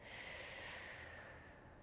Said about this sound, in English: Take another deep breath in and let it go.